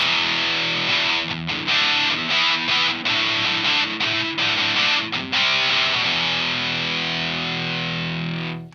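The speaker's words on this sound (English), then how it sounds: "I'm going to turn on my 1991 distortion pedal" A loud electric guitar through a 1991 distortion pedal chugs through a choppy rhythmic riff, then lets a fuzzy, saturated chord ring out and slowly fade.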